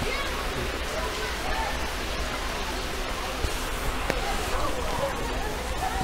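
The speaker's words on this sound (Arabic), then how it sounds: "الدش شغال، شايف اللي فيه ميه نازله اهي" Water pours steadily from a shower in a zoo bear enclosure, a broad continuous hiss with a few faint knocks and thumps over it.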